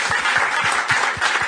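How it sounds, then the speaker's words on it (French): A live podcast show audience claps for the sound technician, a brief, loud burst of crowd applause with some individual claps standing out in a loose rhythm. "Je vous demanderai, s'il vous plaît, une bonne main d'applaudissement pour Alex au son, encore."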